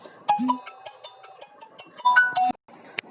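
Phone ringtone playing a short electronic melody of bright tones in two bursts, close and fairly clear, then cutting off abruptly, with no talk.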